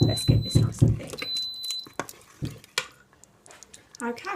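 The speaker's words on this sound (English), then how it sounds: "I've been stirring regularly so it doesn't stick" A spoon stirs thickening spaghetti bolognese sauce in an Instant Pot, with wet scraping and soft sizzling in repeated close strokes and a few quieter pauses.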